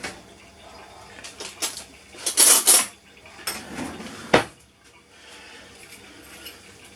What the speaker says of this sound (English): let me grab a spoon